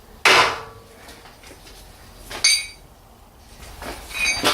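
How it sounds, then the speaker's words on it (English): A heavy mallet strikes the control arm on a 1992 BMW 325i E36, giving three separate sharp, clanking metal blows spaced a couple of seconds apart, fairly close and loud. "You could also use a heavy one of these hammers, mallet, and hit it here pretty hard."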